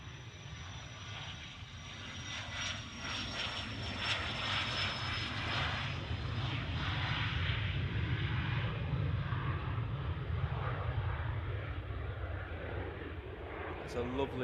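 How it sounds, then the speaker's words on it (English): A 25-year-old Cessna Citation business jet departs Manchester airport. Its engines make a loud, broad, sustained roar that swells and holds as the aircraft leaves, with a faint high whine running on top. "next departure. Little Cessna Citation. Off to Avignon. 25-year-old aircraft."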